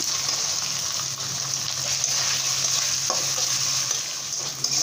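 Chicken lightly frying in a pan for chicken pasta gives a loud, steady sizzle that runs unbroken from start to end. Stirring scrapes rise and fall over it, and a brief clatter comes near the end, with no speech.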